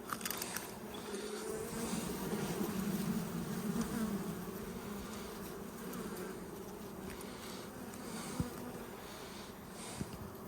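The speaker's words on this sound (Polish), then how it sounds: "Pszczoły jest bardzo dużo, jak widać, w ulu." Honeybees buzz in an open hive full of bees, a dense, continuous droning hum close to the microphone, with a few faint knocks.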